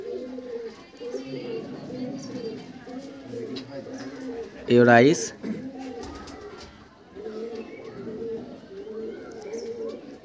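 Pigeons coo in a loft, including a black bird with golden eyes, a steady low murmur of cooing through the scene with a brief louder flutter or call midway; someone talks over them.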